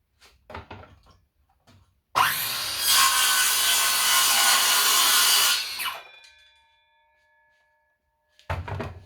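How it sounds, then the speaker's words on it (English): An Aldi Ferrex circular saw runs up loudly and cuts through wood in one steady, close pass of about four seconds, then winds down, with brief handling knocks before and after. "that is a very good circular saw"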